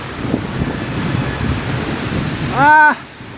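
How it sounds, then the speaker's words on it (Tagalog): Strong wind during a flood buffets the microphone in a continuous rumbling roar, with a brief tonal whine near the end. "Lakas ng hangin."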